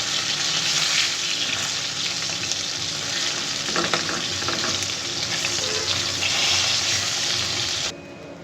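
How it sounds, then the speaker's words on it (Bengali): Hilsa fish sizzles in hot oil in a kadai, a loud, steady frying hiss with a few brief stirring scrapes, ending in a short abrupt drop. "জায়গাটাও ভালো করে ভাজি নিই"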